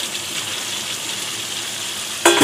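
Fried pointed gourd going into a pan with a little water, a steady close hiss of sizzling that swells into a sharper burst at the very end.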